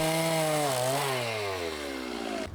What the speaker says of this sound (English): I generally do as little work with the chainsaw as possible because it's more effortful